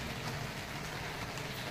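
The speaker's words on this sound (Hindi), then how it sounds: "तो चलिए आप लोग को बारिश की बूंदें भी दिखा देते हैं।" Light rain falls steadily after a heavier downpour, a dense, even hiss of raindrops that fills the space without pause, with no voices.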